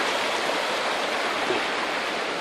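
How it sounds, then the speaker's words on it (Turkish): Floodwater from the overflowing Asi river in Antakya rushes in a loud, steady, unbroken roar of churning water, close by and filling the whole clip with no voices. "Ve su hızla geliyor bana doğru."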